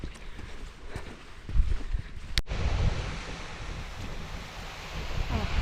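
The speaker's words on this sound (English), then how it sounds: "Kind of a waterfall there." A waterfall at Kinder Reservoir gives off a steady rushing roar of falling water outdoors, with wind buffeting the microphone.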